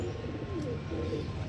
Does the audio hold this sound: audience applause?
no